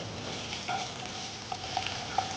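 Shallots and onions with fennel seeds and dried red chillies sauté in a pan, giving a steady low sizzle with a few soft stirring clicks, close and alone.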